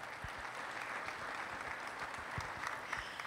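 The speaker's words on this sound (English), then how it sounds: "let's give another round of applause for all of our panelists this morning" Audience applause for panelists at a freight transportation panel during an industry forum, a steady wash of many hands clapping at moderate distance and rather soft, lasting throughout.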